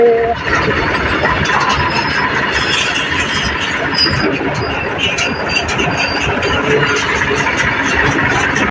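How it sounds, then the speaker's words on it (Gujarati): A train arriving at a village produces a continuous loud rumble and rattle of rolling cars, with indistinct voices mixed in. "રેલગાડી આવી ગઈ છે"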